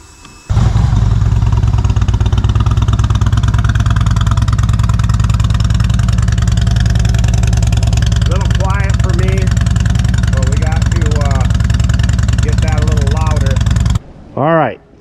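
A Harley-Davidson motorcycle engine fires up after a brief moment and settles into a loud, steady, lumpy idle, with people talking faintly over the running engine before it cuts briefly near the end.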